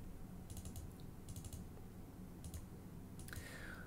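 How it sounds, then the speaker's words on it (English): Typing on a PC computer keyboard, several short bursts of quick clicking keystrokes separated by pauses, close and fairly quiet over a steady background hum. "do a bit of typing on the PC keyboard here"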